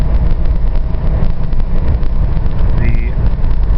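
A 1966 Plymouth Barracuda with a 273 V8 runs with a steady, loud engine rumble as the throttle is blipped slightly, joined by wind buffeting and road noise from a moving car.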